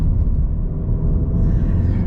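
An APR Stage 1 tuned VW Golf GTI Mk7.5 engine idles while warming up, a steady low rumble heard close and alone.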